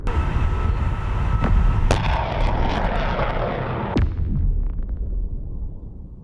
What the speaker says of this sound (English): The first rocket ignites, bursting into the sky with flame and force.